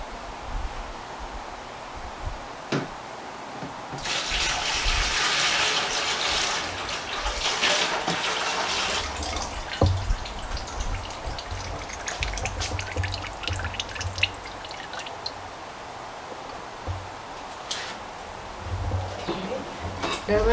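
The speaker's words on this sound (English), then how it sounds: "I'm going to pour it into my bucket." Cooled simple syrup for homemade limoncello pours into a bucket, a steady liquid splashing and gurgling stream that builds and then trails off into drips and small clinks.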